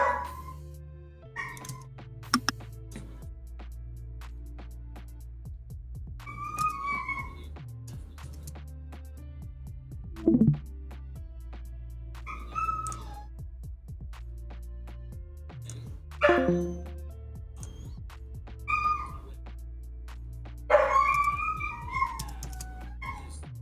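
A dog barks and yips in short, separate bursts spread through a steady low hum, some of them sharp and fairly close, others whimpering and high-pitched.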